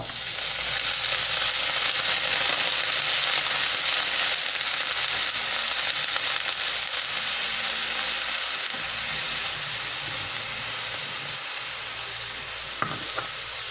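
Mushrooms sizzle and fry steadily in a hot pan as textured soy protein and plain water go in, a dense close crackle that softens slightly toward the end.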